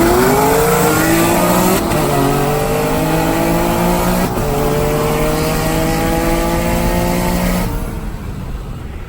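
A Nissan 370Z engine revs hard and accelerates, loud and close, its pitch climbing in repeated sweeps through the gears before easing off at the end.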